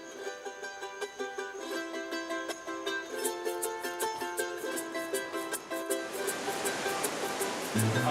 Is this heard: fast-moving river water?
yes